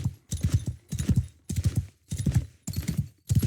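A horse's hooves clip-clop in the Tales From The Age Of Men mod, heard as rhythmic bursts of galloping hoofbeats that repeat in clusters, close and fairly loud, with no talking.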